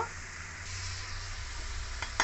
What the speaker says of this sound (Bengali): এবার একে আমি ভালো করে লাল লাল করে ভেজে নেব।